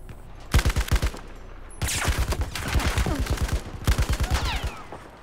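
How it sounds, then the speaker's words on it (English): Automatic weapon fire in the Battlefield 4 campaign, several loud close bursts of rapid shots separated by short pauses, dense and sharp with no talk. "Lots of shooting."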